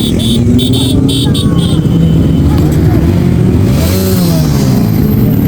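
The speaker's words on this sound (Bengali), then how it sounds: "রাজদীপের ডিউকটা এখন আমি চালাচ্ছি।" A KTM Duke motorcycle cruises along a highway, its engine droning loud and close with shifting revs and rushing wind, while a voice speaks over it.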